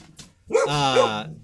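A dog gives one drawn-out, whining bark-like cry lasting under a second, close and fairly loud, after a few faint sounds in a quiet indoor setting.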